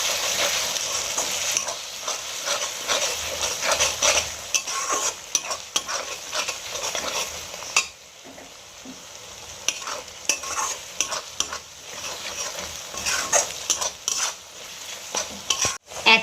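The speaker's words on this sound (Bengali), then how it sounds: "দিয়ে ভালো করে আমি মশলাটা কষিয়ে নেব" A spice paste of Kashmiri chilli powder and sugar being sautéed in a pan for restaurant-style chilli soybean. Continuous close sizzling runs throughout, broken by frequent stirring scrapes and clicks.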